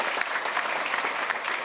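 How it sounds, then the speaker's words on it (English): Hearty applause from an event crowd welcoming a new executive, with dense, even clapping and a few sharper claps standing out, sustained throughout. "Big round of applause to Michelle."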